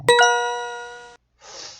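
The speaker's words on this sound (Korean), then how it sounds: "아 전화가 오셨네요." A phone ringtone cuts into a KakaoTalk janggi game: a bright, sustained chime rings out clearly for about a second, stops, then a short hissy burst follows.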